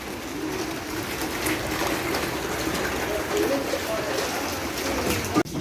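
Steady rain pours down outside a house in Saudi Arabia, a dense even patter close by that carries on without a break, with a sharp knock near the end.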